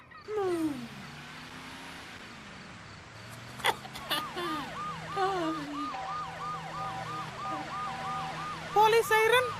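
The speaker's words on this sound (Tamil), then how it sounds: "Police siren." A police siren wails with rising and falling whoops, then settles into a fast repeating yelp, fairly close, over background noise and other sounds.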